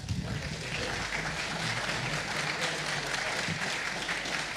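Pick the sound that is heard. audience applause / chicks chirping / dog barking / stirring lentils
audience applause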